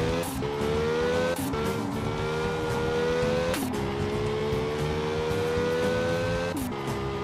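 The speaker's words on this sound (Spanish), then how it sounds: "Que bien se maneja tu carro Duan, solo que le hace falta que suene como Hellcat y no como un 4 cilindros normal" A Chrysler 300 with a Hellcat engine swap drives past close by, its engine droning with rising pitch between several sharp gear shifts and revs.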